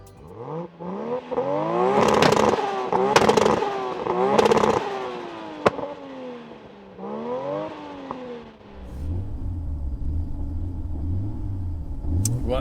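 Two tuned race cars, a 900 bhp Toyota Supra and an 800 bhp Nissan Skyline R34 GT-R, rev hard in repeated rising and falling bursts with sharp pops, then settle into a lower rumbling idle.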